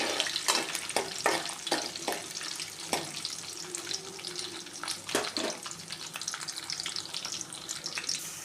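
Ginger, garlic and curry leaves fry in hot oil for a Kerala crab roast, a constant crackling sizzle with some sharper stirring clicks, close and moderately loud, with no one speaking.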